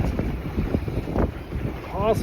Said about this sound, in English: That wind is rough.